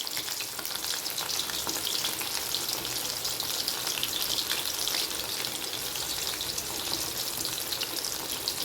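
Prawns frying in a pan for a prawn roast 65, a dense, steady sizzle with bright crackling that holds at an even level throughout, with no voices over it.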